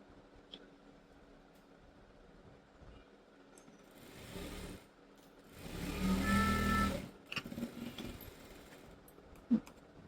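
A sewing machine stitches a school girl's uniform pants, running in two bursts of mechanical whirring with quiet handling noises around them.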